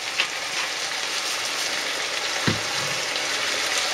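Chicken seasoned with paprika and pepper fries in a pan, giving a loud, dense, continuous sizzle with one brief stirring knock midway.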